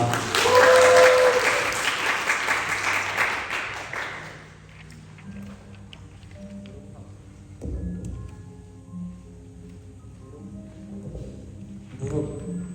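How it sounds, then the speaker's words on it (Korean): An audience at a school literature day event applauds loudly for about four seconds; the clapping then fades, and quieter sounds and a voice follow. "큰 박수 부탁드립니다."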